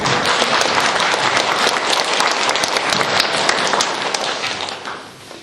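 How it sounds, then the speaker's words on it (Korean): A church seminar audience gives loud, dense applause to welcome a pastor to the front. The clapping is full and sustained, then fades out near the end. "박수로 모시도록 합니다"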